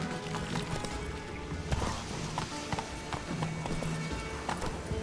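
Hooves of Geralt's horse Roach pound in a steady galloping clip-clop across open ground in The Witcher 3, continuous and fairly close, with game ambience and faint music beneath.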